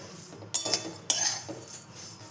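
Flattened rice (poha) dry roasting in a pan: two sharp metallic spoon scrapes and clinks against the pan over a quiet background, followed by softer stirring, close and without speech.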